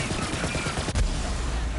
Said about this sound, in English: Oh, the explosions.